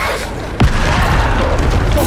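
Bombarda spell explosion from Hogwarts Legacy: a sudden sharp boom-like burst about halfway in, set against steady loud game noise and chatter.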